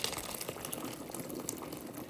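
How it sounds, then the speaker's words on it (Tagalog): Miswa noodle soup with patola simmers in a pot, giving a faint, steady bubbling and gentle liquid churning throughout, with no voices. "Hayaan mo lang kumulo."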